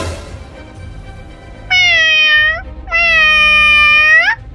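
A cartoon cat gives two loud, drawn-out meows in quick succession, each a rising and falling whine, with no other sound around them.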